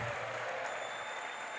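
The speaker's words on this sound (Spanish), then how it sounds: "Un aplauso para Santa Marta" Audience applause at a Catholic catechist training gathering in Santa Marta: steady, dense clapping from a crowd that carries evenly through the whole moment, with no voices over it.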